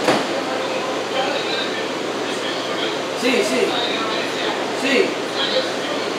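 An R179 Queensbound J local subway train runs with a steady, hissing rumble as heard from the back window, while passengers chat in Spanish nearby.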